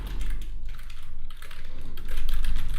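Keys clatter on a computer keyboard during app design work in Adobe XD, a close, rapid run of clicky taps that continues steadily with no pauses.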